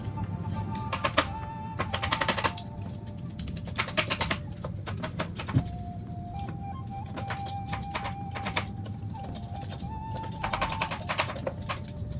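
A knife chops ginger and lemon on a cutting board, giving repeated sharp taps in quick bursts with short pauses, close and fairly loud over a low kitchen hum.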